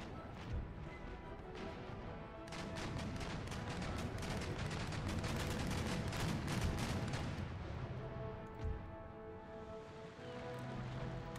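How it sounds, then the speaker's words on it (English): Naval cannon volley from sailing warships in Empire: Total War, a rolling barrage of many overlapping heavy shots rumbling for several seconds, loud and dense, with scattered cracks at the start and a fading tail afterward. "They're going to put a volley into Udagiri."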